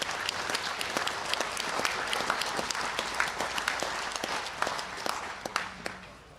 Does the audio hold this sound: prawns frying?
no